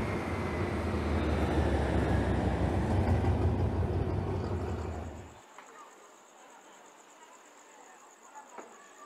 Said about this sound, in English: as yet another passing train comes underneath this bridge, blasting me with a whole lot of diesel smoke